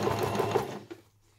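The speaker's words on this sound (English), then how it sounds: "So a few reverse stitches" A home sewing machine runs a short burst of reverse stitches on a fabric sun hat, a quick rapid whirring that stops after about a second, close and alone.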